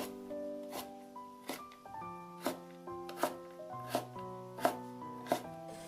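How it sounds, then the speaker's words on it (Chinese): A knife dices carrots into small cubes on a cutting board, its sharp, evenly spaced taps repeating about once every second under a louder melodic music backing. "最后给它切成胡萝卜丁。"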